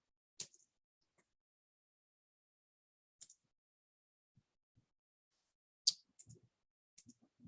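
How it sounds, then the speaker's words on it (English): A few sparse, faint computer mouse clicks with long near-silent gaps between them, crisp and close in an otherwise quiet room. "I'm going to click on Pathfinder subjects"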